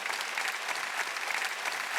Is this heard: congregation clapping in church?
yes